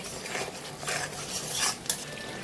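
A spoon stirs and scrapes spice masala with yogurt around a kadai in a few quick strokes, with a soft sizzle of frying under the clinks. It is close and fairly quiet, with no voices.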